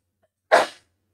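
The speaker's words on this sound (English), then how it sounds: "Oh, sneezed on stream." A single sharp human sneeze, close and fairly loud, bursting out after a brief silence and fading within about a third of a second, with no talk around it.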